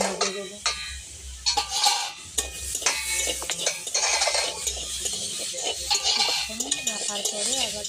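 A spoon stirs and scrapes food in a cooking pot after salt has been added, making repeated close clattering scrapes against the metal with a faint sizzle, with no talking.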